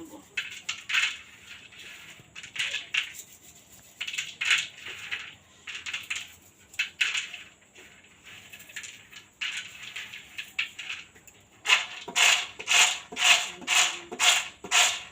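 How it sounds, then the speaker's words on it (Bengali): Roasted peanuts are rubbed between the hands to loosen their skins, giving repeated dry rustling, rasping bursts in an uneven rhythm that turn faster and louder toward the end. "চিনে বাদামের খোসাটা এইভাবে কিন্তু ছাড়িয়ে"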